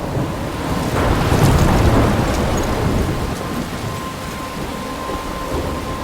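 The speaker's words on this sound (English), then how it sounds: "I'm trapped in a storm?" Thunderstorm with heavy rain from the video game Life is Strange: a dense, steady hiss of rainfall with a deep rolling rumble of thunder swelling near the start, then the downpour continuing alone without speech.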